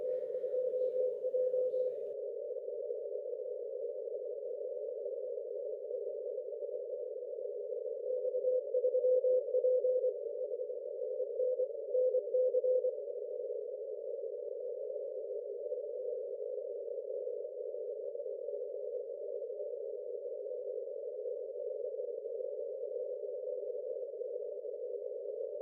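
A weak CW Morse signal comes through a Flex 8600 or K4D amateur radio receiver as a steady sine tone that runs almost unbroken at one pitch, with a faint burst of noise at the start.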